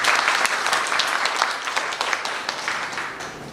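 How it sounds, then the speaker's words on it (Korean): Applause fills a union officials' seminar as the audience claps for a colleague's well-prepared bargaining materials, a dense, steady patter of many hands that holds throughout and thins slightly toward the end. "고생했다고 박수 한번 쳐주시죠"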